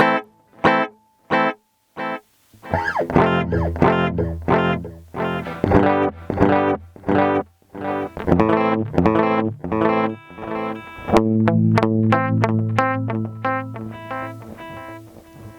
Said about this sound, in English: This is going to give you a little bit of multiple delays.